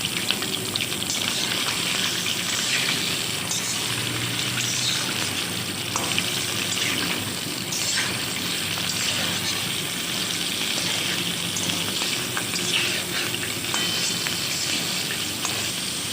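Chicken pieces for karahi fry in hot oil with a steady, dense sizzle, while a spoon stirs through them now and then. The sound stays loud and constant throughout, with no talking.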